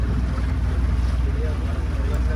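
A boat motoring across a Kumarakam backwater lake toward a resort, its engine a steady low drone with wind and water noise rolling continuously underneath.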